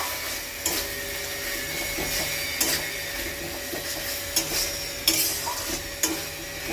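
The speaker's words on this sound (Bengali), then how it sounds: "কাঁচা লঙ্কা বাটা দিয়ে এবার নাড়বো।" Green chili paste and ginger-garlic paste being stirred in a frying pan for a gravy, with a low steady sizzle and scattered sharp scrapes and taps of a spatula on the pan, close by, without speech.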